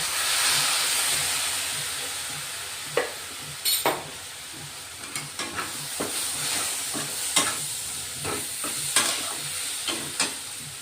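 Methi-matar masala with turmeric sizzles steadily in a pan as water is poured in, with a run of sharp spoon clicks and scrapes of stirring standing out over the continuous hiss.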